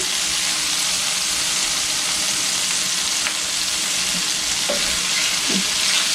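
Sauce sizzles steadily in a pan for spaghetti and meatballs while it is stirred, with a few soft scrapes and clicks rising over the continuous frying hiss; no one talks.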